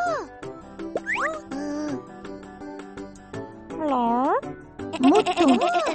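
Sheep bleating in a children's cartoon, several wavering bleats in a row over bright background music and jingles, loud and close, with a voice speaking in between.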